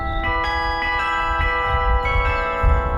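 Several carillon bell tones ring out in overlapping succession, their sustained pitches layered and lingering, with a low rumble of background noise underneath.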